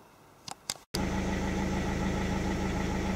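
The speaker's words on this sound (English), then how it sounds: "the car started and ticking over" A DIY electric-conversion project car's engine idles steadily and close by after a few brief clicks and a short gap, a continuous low hum with a faint tonal drone and no talk.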